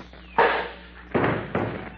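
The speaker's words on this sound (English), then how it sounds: "I'll throw this cuspidor at him." A cuspidor thrown as a comedy sound effect lands in three loud, hollow crashing thuds, each decaying quickly, with short pauses between them and no talk over them.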